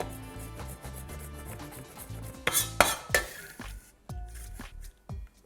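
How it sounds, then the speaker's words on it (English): A knife slices through wetted, peeled garlic cloves on a board, producing close, crisp, rhythmic cuts and taps with a cluster of brighter clatters midway. "we're just going to slice into the garlic"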